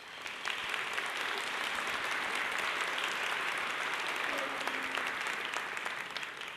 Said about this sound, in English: Please give our families a round of applause.